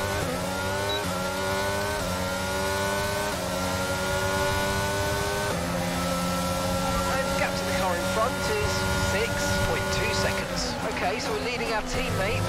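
An F1 race car engine in the F1 2022 video game at the France Grand Prix, droning and shifting pitch as it revs up and down through gears, loud and continuous, with a voice talking over it.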